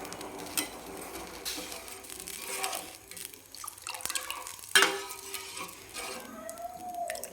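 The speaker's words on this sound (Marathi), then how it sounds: "आणि आता याच्यामध्ये टाकून घेऊ आपण हा रस्सा" Mutton gravy (rassa) poured into a pan and stirred, giving soft wet drips, splashes and a brief clatter amid low background noise.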